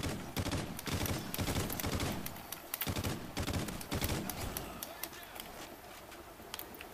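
Rapid gunfire from Call of Duty: Ghosts in an Infected match, dense bursts of automatic shots crackling continuously with brief gaps, loud and up close throughout.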